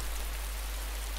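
Steady rain in the DayZ game world, a dense, even hiss of falling drops with a deep low rumble beneath, unbroken and without voices.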